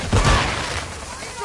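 Gunfire in the shooter Modern Warfare 2 DMZ, a loud, close burst of shots blurring into one sustained roar with a heavy low-end thump, lasting well over a second.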